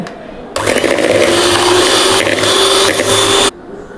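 An electric mixer beats butter cookie dough in a bakery-style recipe, whirring steadily and loudly for about three seconds with a slight pitch wobble, then cuts off abruptly.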